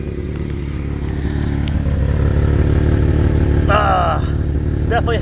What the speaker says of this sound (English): Definitely have an exhaust leak